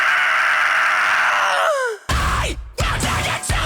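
A voice imitates a harsh, gruesome metal scream that bends down into a groaning moan, loud and close, followed by strained guttural vocal bursts.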